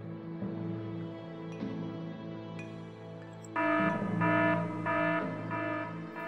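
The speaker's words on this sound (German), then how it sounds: "Können wir gerade Alarm auslösen?" Electronic alarm going off in the PC strategy game Evil Genius: a steady buzzing drone gives way midway to louder repeating beeping pulses in a regular rhythm, with no talking.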